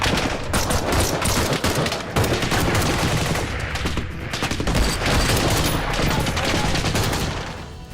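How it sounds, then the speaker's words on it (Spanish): Heavy combat gunfire, dense overlapping bursts and volleys rolling on without pause at close to mid range, loud and continuous with no talk. "And we just started taking heavy fire."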